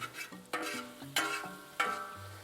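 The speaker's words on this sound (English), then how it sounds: "Now I'm just gonna mix everything together." Chorizo, sausage, ground beef, bacon and sweated onions are mixed for discada tacos, with three or four loud scraping stir strokes, each fading into a sizzle, close and with no talk.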